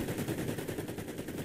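Rapid automatic gunfire in the video game Fortnite, a continuous rattling burst of evenly spaced shots, fairly faint and slightly distant throughout.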